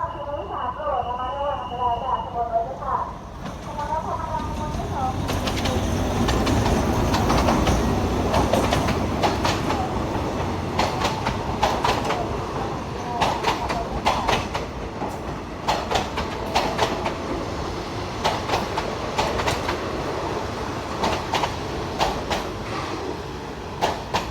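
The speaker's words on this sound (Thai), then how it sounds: "จอดสถานีชุมทางบางซื่อแล้วนะครับ ขบวน 211 วันนี้ตามเวลานะครับผม ตอนนี้บ่ายโมงสิบห้า อัสตอม 4202นะครับผม" Alstom locomotive 4202 hauling train 211 into Bang Sue Junction station, a loud close rumble with rhythmic clickety-clack of wheels over rail joints and faint squeal, while someone talks at the start.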